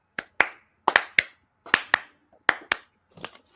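Sharp hand claps in uneven pairs and short bursts, close and fairly loud, with brief gaps between each group and no talking.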